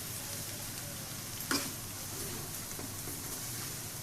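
Pumpkin peels fry in oil as a faint, steady sizzle, with one brief sharp clatter midway.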